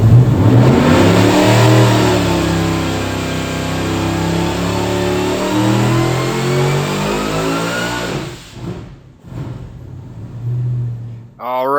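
Magnuson supercharged LS V8 on a dyno pull, a loud sustained rev climbing steadily to high RPM with supercharger whine, then cutting off abruptly and dropping toward idle, with some talk.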